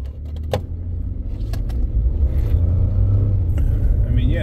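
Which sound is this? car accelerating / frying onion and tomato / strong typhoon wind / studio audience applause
car accelerating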